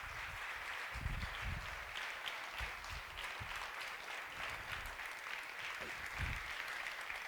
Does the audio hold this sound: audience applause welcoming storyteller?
yes